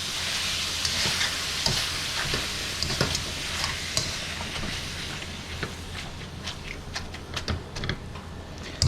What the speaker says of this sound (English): You can break it up with a wooden spoon, a regular spoon, whatever you want to do.